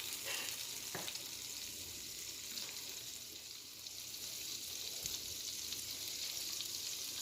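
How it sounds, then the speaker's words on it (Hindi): Butter melting in a pan for a dal makhani tadka gives a steady, fine hiss of sizzling and frying that runs close and even throughout, with a few faint clinks and stirs. "बटर मेल्ट हो रहा है"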